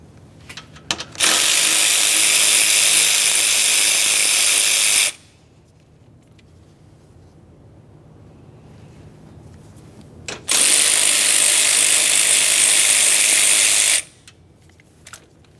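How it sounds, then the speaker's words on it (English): Two bursts of rapid ratchet clicking, about four seconds each with a quiet pause between, as 10mm cooling fan mounting bolts are backed out of the radiator on a 1994-1997 Honda Accord 2.2L four-cylinder; close and loud, no talk. "Now let's remove the two 10mm headed mounting bolts that hold the engine cooling fan to the radiator."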